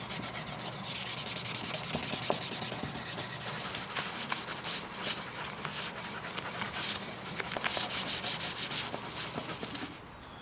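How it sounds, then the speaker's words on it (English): A wooden coin bank being hand-sanded all over to smooth it and ease the sharp edges, a close, continuous rasping rub that holds steady for about ten seconds before stopping abruptly. "then lots of sanding over everything to smooth it out and ease the sharp edges."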